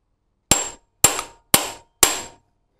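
Four sharp metallic hammer blows, evenly spaced about half a second apart, strike an impact screwdriver seated in a screw on a Honda CB 350 motorcycle engine, each loud crack ringing briefly and then stopping dead.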